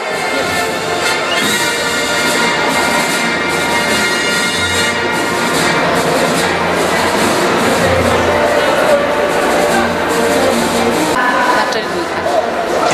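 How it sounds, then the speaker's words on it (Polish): Loud, continuous applause and crowd noise for girls at a school athletics event, dense clapping running throughout with someone speaking over it on a public address system. "Brawa dla dziewcząt, życzymy sukcesu."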